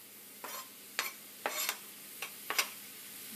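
Several short bursts of onions sizzling in hot oil, each a quick crackling hiss that fades, spaced irregularly over a quiet background.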